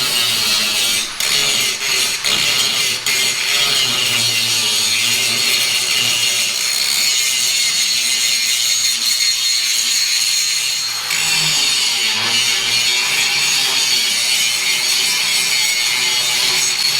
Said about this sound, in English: I got a little bit of cleaning up to do with the grinder